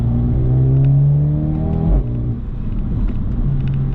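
A 2020 Mercedes-AMG A 35 engine revs hard with a deep rumble and drops off with a thump; faint crackles suggest exhaust pops, no talking.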